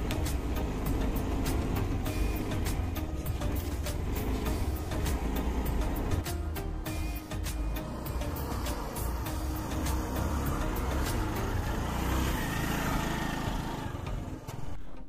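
A scooter ridden over snow on the way to Ahrabal waterfall in Kulgam, its engine a steady near drone with scattered crunchy clicks throughout, no talking.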